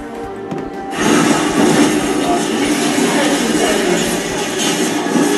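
After a quiet second, a loud, steady roaring rush of a metro train fills Hexing Road station in Harbin, China, and continues to the end.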